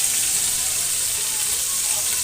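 Ginger frying in hot oil in a pan, giving a steady, dense sizzle that stays loud and even throughout, with no clear speech.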